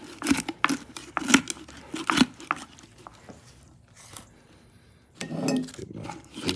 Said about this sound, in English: I just cut it with a big chef's knife.